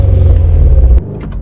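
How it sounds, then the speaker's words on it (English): A Subaru WRX STI boxer engine rumbles loud and close for about a second, a deep throbbing drone, then cuts sharply to a quieter low idle. "Got a much more beaty boxer drum than the WRX."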